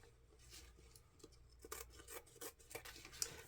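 Scissors snipping diagonally through ribbon tails for a fall door swag, a quiet run of soft shearing cuts and rustles that grows busier and crisper toward the end, close by with no talking.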